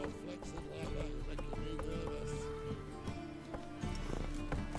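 Horse hooves clip-clop in a video game, a steady near rhythm of hoof beats over game background sound, with a brief whinny.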